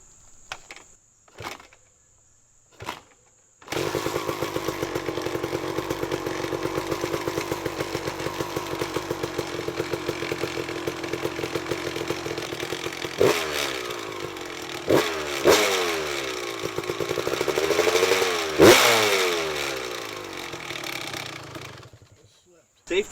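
After a few clicks and knocks, a rebuilt Kawasaki KX250 two-stroke dirt bike fires for the first time in a garage, idling with a raspy, ringing buzz, then giving several sharp throttle blips that rise and fall.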